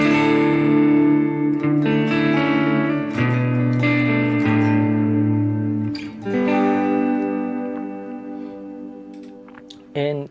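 Line 6 Pod Go guitar tone with a dynamic reverb effect, sustained chords ringing out with a lush ambient tail that swells and fades, a few separate strums across the passage, clear and upfront.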